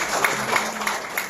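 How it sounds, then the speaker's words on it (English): Audience at a company product presentation claps together, a brief dense patter of hands at moderate distance, fairly loud and alone. "Can you give yourselves a big round of applause?"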